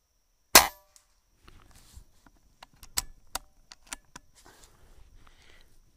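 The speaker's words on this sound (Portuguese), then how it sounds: "Vamos lá, eu vou efetuar os disparos pra gente ver como é que tá." A Beeman air rifle fires a single sharp, loud pellet shot outdoors, followed by scattered faint clicks and metallic taps as the shooter handles the gun.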